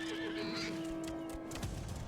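A horse mount in the online role-playing game Final Fantasy XI gives a whinnying neigh, a sustained tonal call over steady background game ambience and music, fairly faint and with no voices.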